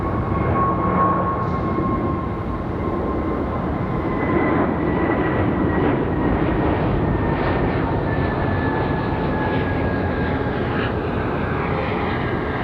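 A jet airliner departs from Raleigh-Durham airport, its engines giving a loud, sustained roar with a falling whine that shifts in pitch as it passes, heard alone without voices.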